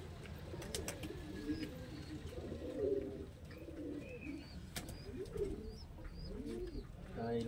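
Madrasi pigeons coo in repeated soft, throaty bursts at close range, with scattered small bird chirps in the background.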